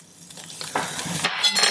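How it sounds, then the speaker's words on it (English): A spoon swirls boiling water in a pot into a whirlpool for poaching eggs, a short close burst of sloshing and bubbling that grows louder as the stirring picks up. "Now what I do is I make a whirlpool"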